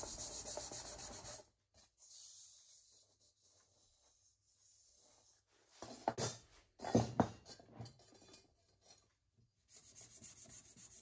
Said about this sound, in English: I give it a little rub with some Abranet cloth to sort of highlight the high spots